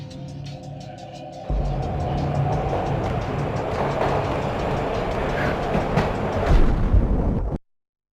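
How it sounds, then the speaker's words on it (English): Train ride in the Max Payne video game: a steady rumbling rail carriage with continuous rolling noise, growing louder after a quiet opening and swelling briefly near the end before cutting off. "This was my second train ride of the night."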